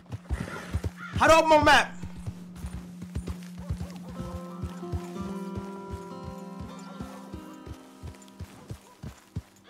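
Horse hooves clip-clopping at a steady rhythm in Red Dead Redemption 2, with a brief loud neigh near the start, while someone talks over the game sounds.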